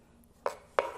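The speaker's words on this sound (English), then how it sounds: "Just a little bit of a rough chop." A knife rough-chops a peeled ingredient on a cutting board for a vegan cilantro-lime-jalapeño dressing, with two crisp, close chops about a third of a second apart against a quiet kitchen background.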